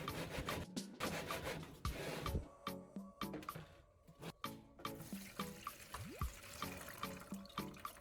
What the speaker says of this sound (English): Continue rinsing again with distilled water.